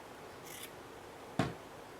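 Scissors snip through a paper bag being trimmed for a craft embellishment, one short crisp cut standing out alone in a quiet room, preceded by a faint brief rustle.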